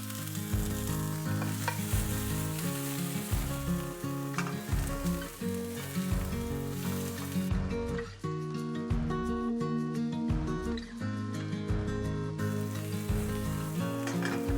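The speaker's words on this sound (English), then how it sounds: "Saute the red and green onions," Red and green onions, garlic and ginger sauté in avocado oil, a steady loud sizzle and frying hiss with stirring that runs the whole time, partly masked by strong tonal sound.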